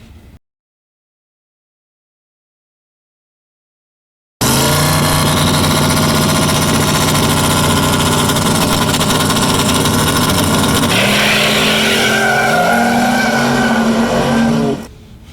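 After a few seconds of silence, a no-prep drag race car makes a test pass and blasts in at full volume with a harsh, sustained engine roar. Its pitch climbs and shifts as it accelerates down the left lane, then it fades out.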